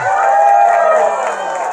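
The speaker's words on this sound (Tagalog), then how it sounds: "Sigawan na sila dito dahil umakyat na si Pascual sa podium" Crowd shouting and cheering at a Tour of Luzon stage 8 cycling awarding ceremony, a sustained, dense roar of voices from a gathered audience.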